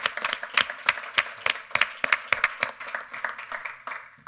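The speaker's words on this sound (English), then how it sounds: "So let's give a hand." A conference audience applauds the event organizers with steady, dense clapping from many hands, fairly close and sustained throughout without fading.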